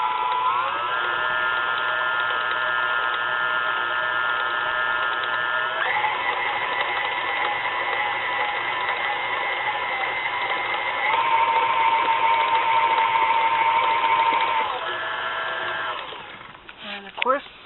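KitchenAid stand mixer stirs ginger cookie dough with a steady motor whir that shifts pitch as the speed changes, running close and loud for most of the stretch before winding down near the end.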